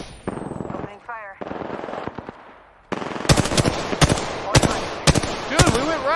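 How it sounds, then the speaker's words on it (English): Rapid automatic gunfire bursts from an Apex Legends match, loud and close, crackling in several sharp volleys over the second half, with someone talking during the quieter opening stretch. "Opening fire."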